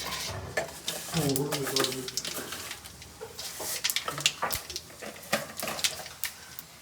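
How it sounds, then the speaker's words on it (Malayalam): Mustard seeds popping in hot coconut oil in a clay pot, a string of sharp irregular pops and crackles over a soft sizzle, with a voice talking and faint birdsong in the background. "കടുക് പൊട്ടി കഴിഞ്ഞു"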